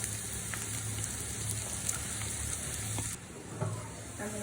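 Dried chilies, chopped onion and garlic hitting hot oil in a pan, giving a steady, close crackling sizzle that runs throughout with small spatters and stirring clinks.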